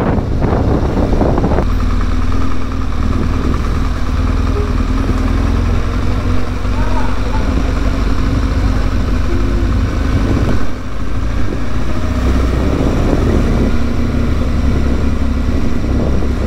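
A motorcycle riding through the streets of Algiers gives a steady, close engine drone and road rumble that runs throughout, with a voice talking over it and a brief dip near the middle.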